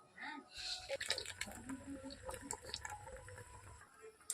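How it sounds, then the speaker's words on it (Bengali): Curry bubbling in a pot on a clay pipe-chimney stove, a mankochu (giant taro) dish, giving a busy wet bubbling and dripping texture with occasional clinks, steady and fairly close for several seconds. "তরকারিটা ফুটে উঠেছে"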